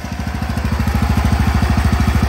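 Wheel Horse garden tractor's small engine idling after a carburetor cleaning, a close, loud, rapid even chugging putter with a steady rhythm throughout.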